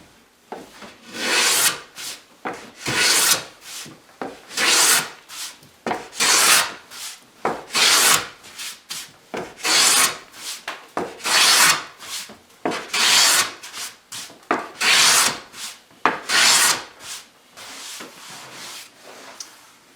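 A Japanese hand plane is drawn across the grain of a wooden board in repeated rasping strokes, about two a second in bursts with brief pauses, close and crisp.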